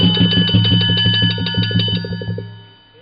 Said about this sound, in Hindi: घंटी बज पड़ी।